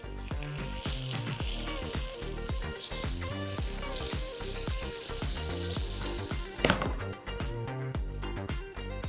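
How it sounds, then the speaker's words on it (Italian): Loud, steady sizzling and crackling as brine is sprinkled onto a freshly baked focaccia in its still-hot tray, continuing throughout with a brief sharp clatter near the end. "a teglia ancora bollente, andiamo a cospargere ulteriormente di salamoia"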